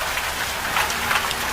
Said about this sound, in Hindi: दिन बारिश रात भर नहीं रुकी